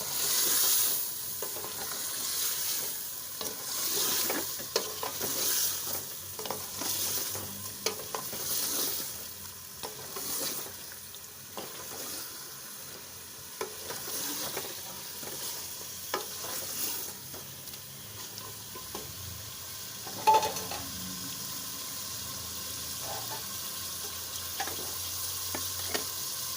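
Chicken necks frying in a pan and being stirred, a steady soft sizzle under repeated scraping stir strokes, with a brief louder clatter near the end.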